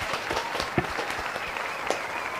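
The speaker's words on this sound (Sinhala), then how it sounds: "අපි ක්ලැප් එකක් දෙමු." Short burst of audience applause for a winning team at a New Year games show, dense quick claps close by, lasting a couple of seconds.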